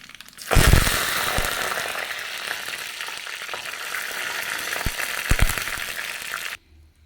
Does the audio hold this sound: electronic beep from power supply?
no